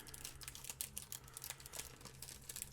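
Crinkly foil wrapper of an American Gladiators trading card pack being torn and handled, a steady stream of close, soft crackles and rustles with no talking.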